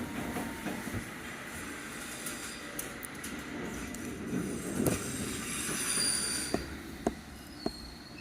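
London Underground Circle line train running between Bank Monument and Cannon Street, a steady rumbling roar with wheel squeal and sharp clicks from the rails near the end.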